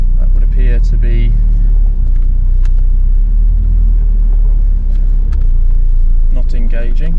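A Mitsubishi L200 pickup with its locker engaged crawls off-road over rocks. Its loud, low engine rumble drones steadily throughout while someone talks over it.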